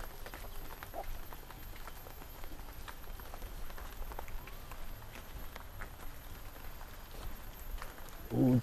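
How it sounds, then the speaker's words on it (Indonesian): Rain falling over a quiet Sundanese village, a faint, steady patter of drops spattering on surfaces throughout, with a soft thump near the end. "Hujan euy."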